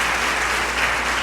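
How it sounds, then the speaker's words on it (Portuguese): A church congregation bursts into applause during a worship service, a short, dense and steady patter of many hands clapping at once. "Dá uma salva de palmas aí para o Senhor"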